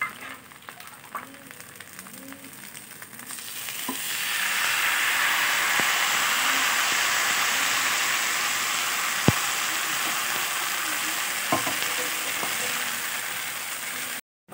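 Ghavne batter is poured onto a hot pan with ghee and bursts into a loud, steady sizzle after a few seconds of quieter sounds. The hiss holds for about ten seconds, with a couple of faint clicks.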